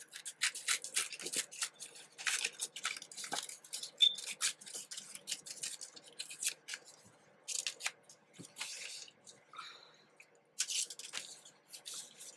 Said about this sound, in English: I'm going just to rip it. Like a rugged type of edge.